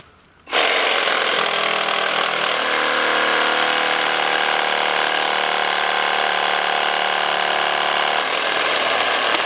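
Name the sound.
reciprocating saw cutting tree branches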